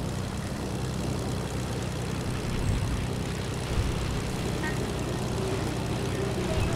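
A plane flies in the video game Fortnite, giving a steady loud droning propeller-engine hum that holds through the whole stretch with small bumps.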